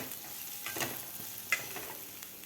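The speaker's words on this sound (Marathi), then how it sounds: "कोथंबीर व्यवस्थित आपलं परतून घ्यायचं आहे" Coriander and chillies sauté in a pan with a low, steady sizzle and soft stirring scrapes, plus one sharper clink of the utensil partway through.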